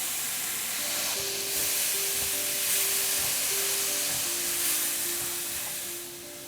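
Chopped tomatoes sizzle steadily in fried ginger-garlic masala for an egg drop curry, a continuous close hiss with soft stirring, while faint background music tones run underneath.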